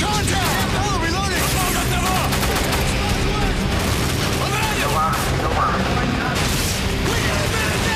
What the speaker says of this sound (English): I'm taking a lot of fire!